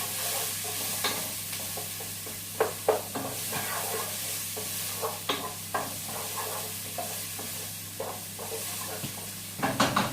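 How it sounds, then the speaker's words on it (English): Onions frying in hot oil for a Thai beef panang curry, stirred in the pan: continuous sizzling hiss broken by repeated scraping and clinking of the utensil against the pan, close up, with no voices. "I'm going to turn it down just a smidgen now because the oil's nice and hot. Give that a quick stir."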